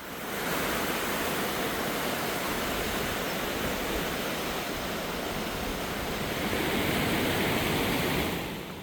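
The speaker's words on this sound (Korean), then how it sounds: "가까운 곳에서는 대화가 불가능할 정도로 물소리가 크네요." A loud rushing stream pours through a rocky valley in Seoraksan, a dense, unbroken roar of water heard close by and alone.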